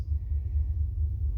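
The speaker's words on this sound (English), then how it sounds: "That is the sound of a large freight train." A deep, steady rumble rolls on without a break, heavy low-end noise like a big freight train passing nearby.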